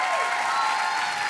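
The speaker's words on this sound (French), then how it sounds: "Franchement on peut applaudir le jury extraordinaire." Applause from a live television talent-show audience during the France's Got Talent 2018 final, a dense steady wash of many hands clapping at close, even loudness throughout without a break.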